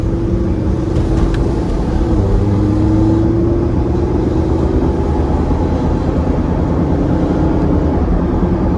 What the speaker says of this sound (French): vous faire entendre ce son hein, qui est quand même légendaire, le son de la Gallardo